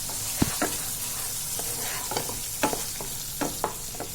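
Masala spices frying in oil in a pan for chole, a soft continuous sizzle with intermittent scraping knocks of a spoon stirring, close by, with no talking.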